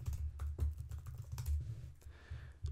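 Typing on a computer keyboard, with quick, faint clicking keystrokes in an irregular rhythm heard close up and alone.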